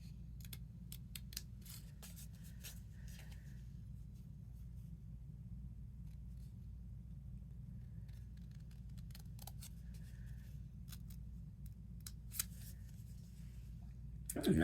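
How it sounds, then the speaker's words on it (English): Scissors snipping through card while trimming a double stepper card, a few quick close crisp cuts scattered over a steady low room rumble, mostly quiet in between. "As nice as that one was to cut with the scissors"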